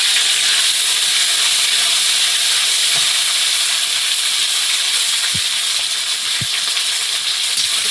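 Ginger and garlic sizzle hard in hot oil in a wok, a loud, steady frying hiss that runs unbroken throughout, with a couple of faint low knocks partway through.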